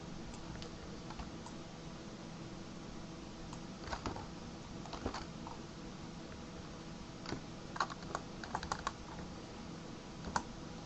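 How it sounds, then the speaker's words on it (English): Arrow keys on a computer keyboard tapped repeatedly in quick, irregular bursts of light clicks, close and fairly quiet over a faint background hiss. "I'm just kind of using the arrow keys just to move the textures, so I get a bit more precision."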